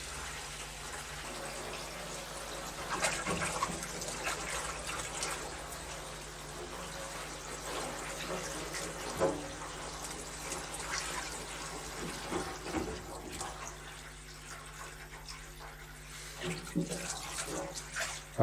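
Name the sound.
hot and cold water running from a water butt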